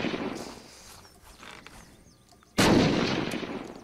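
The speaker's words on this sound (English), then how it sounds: "Look at that explosion." An explosion in the survival video game Unturned, a sudden loud broadband blast near the end that holds and rumbles after quieter game noise.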